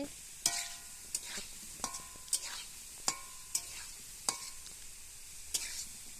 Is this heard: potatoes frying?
yes